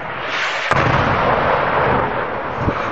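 Government artillery rounds striking the town of Liza in northern Myanmar, a loud, continuous roar of blast noise with a couple of sharper impacts, close and dense, with no voices.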